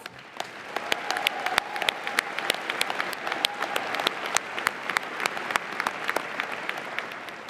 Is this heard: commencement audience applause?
yes